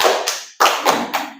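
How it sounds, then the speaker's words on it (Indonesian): A classroom group performs a rhythmic clapping chant called tepuk semangat, with several loud, sharp bursts of clapping in a quick pattern separated by brief pauses. "Sekarang kita tepuk semangat."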